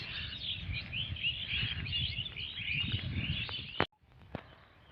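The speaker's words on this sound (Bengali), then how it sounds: "পাখিদের কত কিচির মিচির শব্দ" Birds chirp and twitter in hill country amid strong wind, a dense bright chatter running steadily for about four seconds before dropping away to a few sharp isolated calls.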